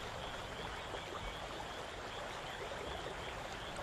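Water streaming steadily through cement-lined irrigation canals among terraced rice fields in rural Japan, a continuous broad rushing wash with no breaks or voices.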